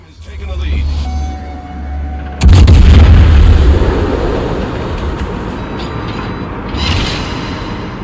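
Naval gunfire in a video game from the German battlecruiser Moltke: a sudden heavy boom cuts in over a low steady rumble, then a long roaring decay, with a voice at times.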